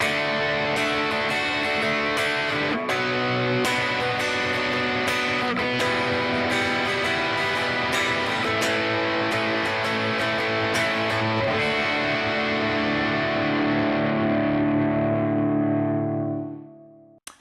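A distorted electric guitar strums a sequence of sustained chords, each ringing out before the last one fades away into silence.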